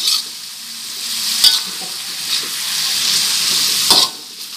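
Vegetables stir-fried in a wok for fried rice vermicelli, a steady close sizzle of frying with occasional louder scraping stirs of the spatula against the pan.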